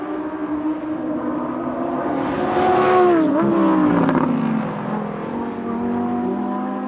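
A 2020 Lamborghini Huracan EVO engine drones steadily on the Bahrain F1 track, its pitch climbing and dipping as it revs through gears, swelling louder midway like a fast pass.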